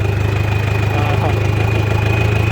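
A tractor engine idles steadily nearby, a constant low rumble with a rhythmic chugging throb.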